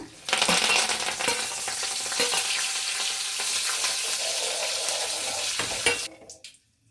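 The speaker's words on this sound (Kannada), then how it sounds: "ಸೊ ಇವಾಗ ಕರಿಬೇವಿನ ಸೊಪ್ಪನ್ನ ಫ್ರೈ ಮಾಡ್ಕೊಳ್ಳೋಣ" Curry leaves fry in hot oil with a loud, dense, crackling sizzle that spits and pops steadily for about six seconds, then cuts off abruptly into quiet.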